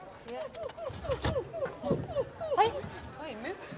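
A dog yips and whimpers in a rapid series of short, high, rising-falling cries, fairly close, with people talking over it in a comedy show setting.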